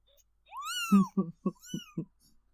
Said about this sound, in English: Do you want to meow?